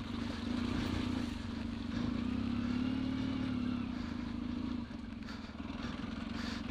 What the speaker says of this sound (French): Hop, on redémarre en burn.